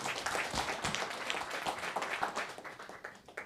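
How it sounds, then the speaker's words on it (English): Audience clapping after a lecture at a university summer school. A modest crowd claps with distinct individual hand claps that thin out and fade toward the end. "Another round of applause to Faustin."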